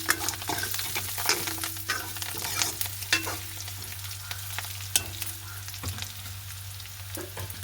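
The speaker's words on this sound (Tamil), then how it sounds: "இப்போ நாங்கள் கருவேப்பிலை கொஞ்சம் சேர்த்துக்கொள்ள போகிறோம்" Curry leaves sizzle in hot tempering oil with steady broadband crackle and frying hiss, broken by intermittent stirring scrapes and clinks, close and continuous with no talking.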